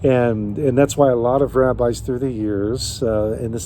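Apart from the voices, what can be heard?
None of the usual background noises is heard.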